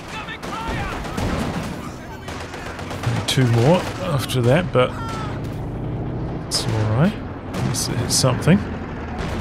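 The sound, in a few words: artillery barrage and mortar fire in video game Company of Heroes 2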